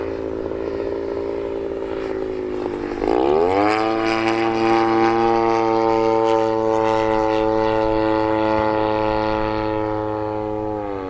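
A Phoenix Waco model airplane engine drones loudly and steadily in flight, its pitch dipping, then climbing sharply as it speeds up, and holding at a high, buzzing half-throttle tone before easing slightly.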